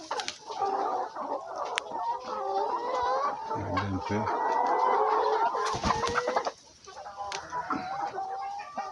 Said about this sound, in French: Voyez un peu la forme de ces poulets.